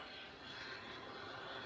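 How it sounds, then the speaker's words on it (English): Jet2 Airbus A321neo engine spooling up on the apron at Manchester Airport, a steady loud roar with broad airy rush and a faint high whine, continuous throughout. "Jet 2 Neo starting up."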